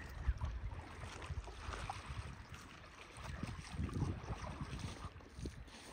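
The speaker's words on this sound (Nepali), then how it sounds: "कैलाली र बर्दिया जोड्नलाई यही हो नाउ" A river boat crossing between Kailali and Bardiya moves over the water, with a low, steady rumble of water and wind and no talk, fairly quiet throughout.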